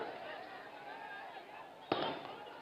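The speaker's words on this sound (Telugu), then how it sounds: "టపాకాయలు బంద్ చేయవా బాబు?" Firecrackers go off at a crowded political rally in Telangana, with a sharp bang near the end over ongoing crowd noise and someone speaking through a loudspeaker.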